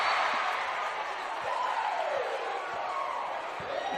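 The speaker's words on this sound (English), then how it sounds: "The crowd really enjoying that miss." Basketball arena crowd at a WNBL women's game reacting to a missed shot: a steady, fairly loud wash of massed voices with scattered whoops and rising jeers, sustained throughout with no clear break.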